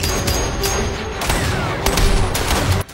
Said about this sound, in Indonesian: Si gembala yang mengetahui mereka lantas menembakinya.